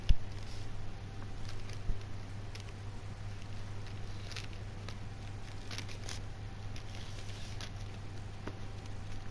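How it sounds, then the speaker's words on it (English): Rain falls in the video game Red Dead Redemption 2, a soft steady patter with scattered small drips and taps and a low constant hum beneath, with no voices. "I love the rain in that game. That is the best rain in the world."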